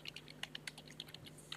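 Placeholder URL typed on a computer keyboard, a quick, uneven run of about a dozen close, crisp key clicks.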